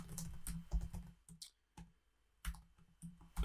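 Typing on a computer keyboard, with rapid irregular bursts of clicks and key taps that pause briefly before resuming, close and fairly quiet with no speech.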